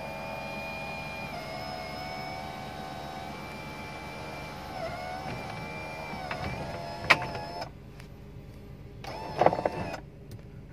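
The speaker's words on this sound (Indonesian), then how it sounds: "untuk sunroofnya, dan moonroof ya ini lebar banget. Seperti ini, nutup tinggal sekali saja seperti ini." The electric moonroof of a Toyota Avanza closes inside the car: a steady motor whine runs for about seven seconds, ends with a clunk as the roof seals, and a few soft knocks follow.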